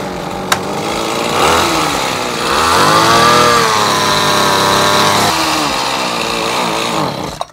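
A Zenoah CHT220-60 two-stroke hedge trimmer engine runs loud and close, a buzzing rasp that rises in revs mid-clip, holds, then eases back before cutting off with a click.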